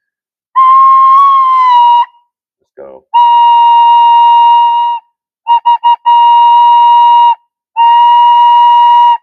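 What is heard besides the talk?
recorder playing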